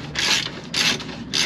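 A spanner working a nut on a Land Rover engine undershield, three short close ratcheting scrapes in an even rhythm, each a gritty metallic rasp with brief pauses between.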